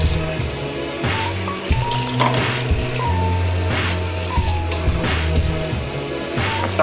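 A kitchen tap runs steadily while hands are washed under it, and the water splashes and patters with uneven bursts. It sounds close and fairly quiet, with no one talking.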